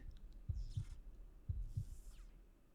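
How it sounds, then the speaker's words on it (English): A monster coming alive in a roguelite video game: two deep, close, thumping double heartbeats sound about a second apart, each followed by faint crackling electric fizz, alone without talk. "You can hear the heartbeat, the electricity"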